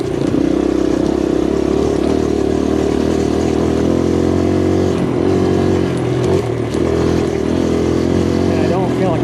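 A 2023 Kawasaki KLX140RF dirt bike runs on trails, its engine droning loud and close with slight revving swells while a voice talks over it.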